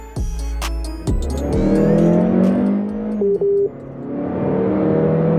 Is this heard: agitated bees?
no